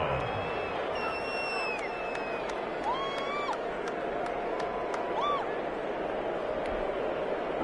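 A stadium crowd in a PS4 football video game gives off a steady, broad roar of noise, with faint whistle-like tones rising above it now and then.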